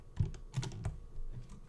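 Fingers tap on a computer keyboard in a quick irregular run of close, crisp key clicks and thumps, a few keys struck in bursts with brief pauses between, and no voices.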